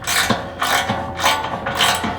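Ratchet tightening nuts on the studs of a Toyota Tacoma fuel tank skid plate, four bursts of rapid clicking in a steady back-and-forth rhythm, close and loud.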